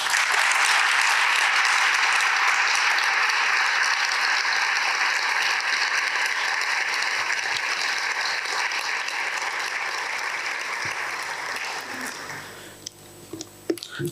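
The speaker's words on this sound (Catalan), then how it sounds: "per la que demana un fort aplaudiment" A hall audience at an education conference gives a long, strong round of applause for a retiring municipal psychologist, dense clapping sustained for about twelve seconds before fading into a few scattered claps.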